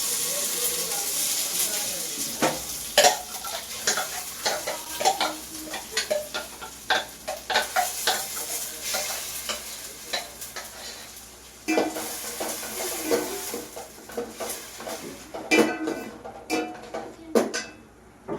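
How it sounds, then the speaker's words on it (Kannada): Ground masala paste sizzling and frying in a pan for tempering, with repeated sharp stirring clinks and scrapes against the metal throughout, close by. "ಸೊ ಇವಾಗ ಮಸಾಲ ಫ್ರೈ ಮಾಡಿಕೊಂಡು ಒಗ್ಗರಣೆನ ಇವಾಗ ಮಸಾಲ ಹಾಕ್ಕೊಬೇಕು"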